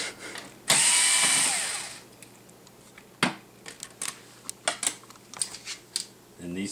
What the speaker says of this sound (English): Then we're going to remove the hard drive cover.